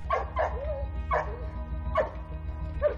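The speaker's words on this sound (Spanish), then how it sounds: "se detiene ante una gran jaula y ladra, señalando así la presencia de un malhechor huido" A military working dog barks at a large cage during a military dog handlers' championship, giving four or five sharp, yelping barks at irregular intervals over a steady low rumble.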